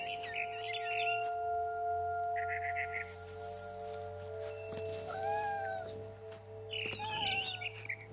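A cat in a video game gives several distinct meows, some drawn out into caterwaul-like wails, over a steady droning game soundtrack with a few chirpy bird-like calls.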